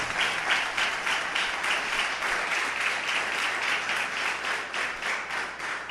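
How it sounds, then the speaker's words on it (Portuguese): A church congregation applauds during an evening service, a dense, steady wash of many hands clapping for the full duration without a break. "Pode aplaudir o nome de Jesus."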